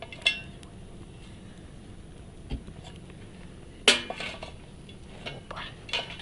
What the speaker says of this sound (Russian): Сковородочка у нас такая, блинница